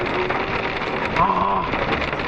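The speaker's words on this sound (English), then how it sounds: "Look, this day let it rain." Rain falling on a recently plowed field, a steady soft hiss of drops close around, with a faint voice murmuring briefly in the middle.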